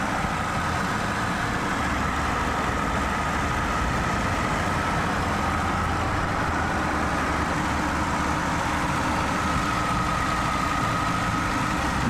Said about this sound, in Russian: Мотор работает идеально